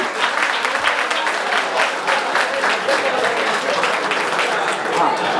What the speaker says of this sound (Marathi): चला जोरदार टाळ्या वाजवा, जोरदार टाळ्या ताईंसाठी.